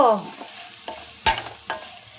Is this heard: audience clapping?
no